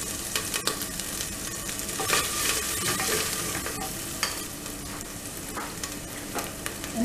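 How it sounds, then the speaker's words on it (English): Ginger garlic paste sizzles and fries in a hot pan with turmeric for a mutton curry, a continuous crackling hiss broken by occasional scrapes and stirring clatters, close and fairly quiet, with no talking. "saute this ginger garlic paste for about a minute"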